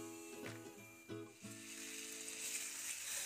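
Pigeon meat frying under a covered pan gives a soft, steady sizzle with a few faint clinks near the start, low in level throughout.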